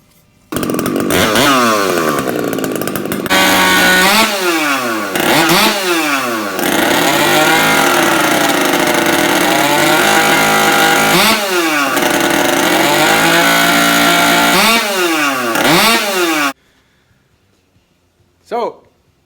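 Husqvarna 266XP chainsaw fitted with a new exhaust pipe, loud and close, revving repeatedly from idle up to a sustained scream and dropping back several times before cutting off, followed by silence.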